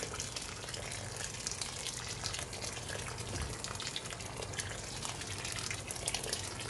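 Water pouring steadily into a large pot of beans being cooked for 100 people, a continuous splashing gush that runs evenly throughout.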